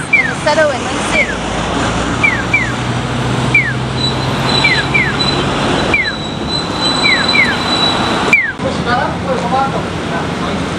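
A train at Takamatsu station in Japan rumbles steadily with repeated high wheel squeals and chirps over busy station ambience, with voices faintly present throughout.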